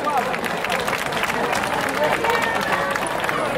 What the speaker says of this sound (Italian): Facciamo un applauso per le nostre ringer.